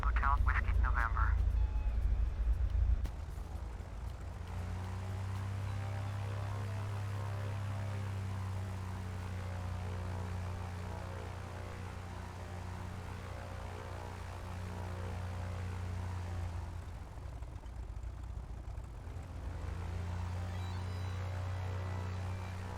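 A Maule M7-260C propeller plane taxis in Flight Simulator X, its engine a steady low droning hum that holds throughout after a brief louder burst at the start.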